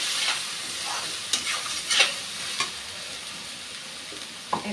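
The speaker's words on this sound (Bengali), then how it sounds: "মশলাটা খুব ভালো করে ভেজে নিয়েছি।" Chilli powder and turmeric paste frying in a pan, a steady soft sizzle with a few sharp stirring scrapes and clicks, close and alone without talk.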